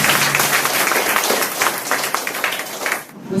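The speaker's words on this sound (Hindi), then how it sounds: "आप लोग ताली बजाएं" Audience clapping at a consultancy office inauguration event in Nawada, a thick, continuous round of applause that holds steady before tapering off abruptly at the close.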